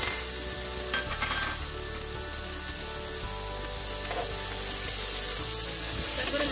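Red potatoes frying with cumin in a pan, a continuous soft sizzle with a few stirring scrapes, moderately quiet and with no speech.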